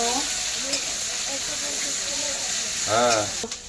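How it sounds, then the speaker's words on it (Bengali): Chopped onions frying in a pan, a steady hiss of hot oil throughout, with a faint voice-like murmur in the background and a louder tonal burst near the end. "পেঁয়াজ কুচিগুলোকে আমি দিয়ে দিচ্ছি অল্প অল্প করে, এটা একটু লাল লাল করে ভেজে নিব।"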